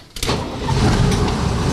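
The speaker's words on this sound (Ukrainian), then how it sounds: "Пожежна машина заводиться." A fire truck's engine cranks on the starter and catches after a quiet moment, then settles into a loud, steady idle close by with no talking.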